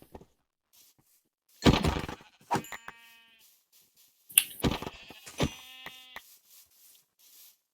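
Minecraft sheep bleat in several short, wavering calls, some close and loud, others fainter, separated by quiet gaps with a soft thunk or two.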